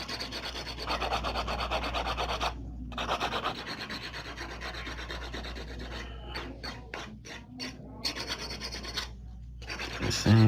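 An electric nail drill files down acrylic nails in an ombre chisel set, giving a steady close rasping grind broken by several short pauses as the bit lifts off.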